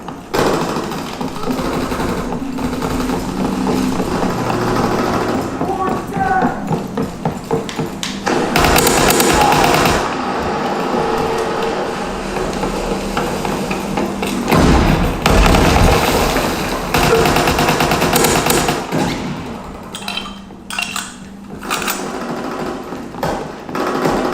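Dense explosive mortar fire in a combat video game: heavy booming thuds and blasts pile up almost nonstop, loud and close. The strongest bursts land around the middle and again near the end.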